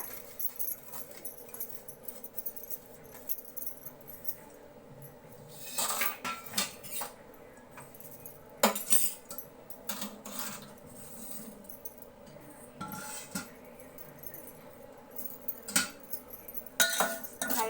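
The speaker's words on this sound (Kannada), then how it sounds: "ತುಪ್ಪ ಹಾಕ್ಕೊಂಡು ಹುರ್ಕೋಬೇಕು ರವೆನ" A utensil scrapes and clinks against a pan as semolina roasts in ghee for upma, the gritty stirring coming in irregular bursts over a low background hum.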